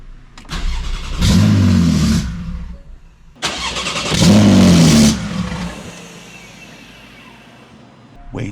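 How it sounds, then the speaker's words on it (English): Cold start of a Porsche 911 fitted with a straight-piped exhaust: two loud, raw cranks and catches roaring close by, then settling into a lumpy idle that fades lower. "Moment of truth, we're about to cold start that bad bitty."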